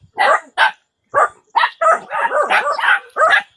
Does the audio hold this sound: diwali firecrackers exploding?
no